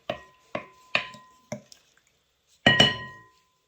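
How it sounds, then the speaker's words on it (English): A spoon stirs homemade doughnut dough and scrapes around the bowl edges, making four evenly spaced sharp clinks followed by a louder double clatter. The sounds are close and crisp, with no talking. "Stir it up nice and neatly. Scrape all the edges in."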